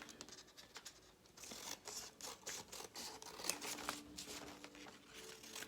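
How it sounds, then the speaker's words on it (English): Regular scissors snip through folded paper strips for a paper-weaving craft, a quiet series of close, uneven cuts and paper rustles. "now I'm cutting in the middle"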